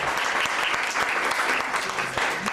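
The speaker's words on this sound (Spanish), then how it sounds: "Un aplauso por favor para Marina Ari." Applause for a guest at an evening book presentation, a steady crowd clapping that fills the whole stretch at even loudness with a few sharper claps standing out.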